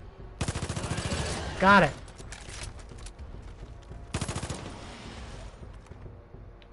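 Two bursts of rapid automatic gunfire in Far Cry 5, a longer burst early and a shorter one later, loud and sharply rhythmic with quieter gaps of game ambience and brief speech between them.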